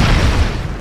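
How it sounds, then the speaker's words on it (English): A grenade explodes in the side-scrolling action game Broforce, giving one loud, short booming burst with a rumbling tail, heard alone. "and we throw the grenade. And down. It blows everyone up."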